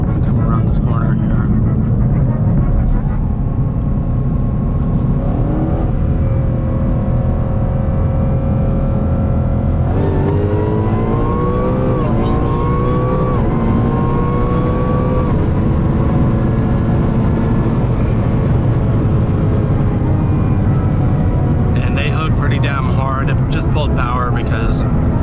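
Ford Mustang with a drag pack accelerating around a corner, its engine droning loud and steady, then rising in pitch as it revs up mid-clip, with someone talking over the engine.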